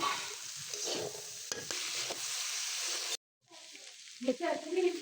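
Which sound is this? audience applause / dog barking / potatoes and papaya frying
potatoes and papaya frying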